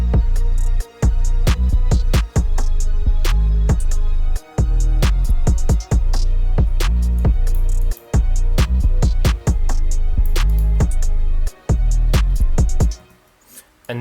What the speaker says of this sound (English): everything comes in except for the main hats and then the sub bass, because we have the 808s, and it sounds something like this.